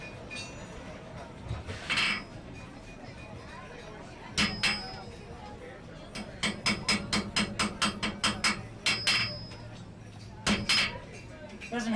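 Hammer blows on hot iron at a blacksmith forge while making chain links, sharp ringing strikes in uneven bursts and a quick rapid series, with some quiet talk between them.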